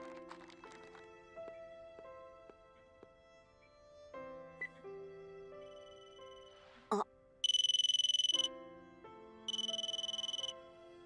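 A mobile phone ringtone plays a melodic electronic tune, then switches to bright, buzzy ringing bursts, fairly quiet and close with no one talking.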